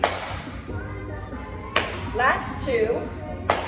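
Two sharp hand claps about two seconds apart punctuate a step-slide-clap cardio workout routine, heard close over an instructor's spoken cues and quiet background music.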